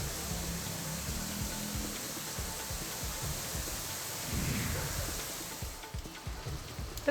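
Heavy unseasonal evening rain pours down steadily as a dense, even hiss, swelling briefly louder partway through, with no voices.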